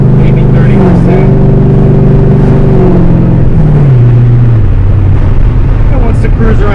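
A 5th-generation Chevrolet Camaro SS V8 with a big-stall converter runs at about 25–30% throttle, its loud, steady engine drone rising and then dropping in pitch as it pulls through the gears.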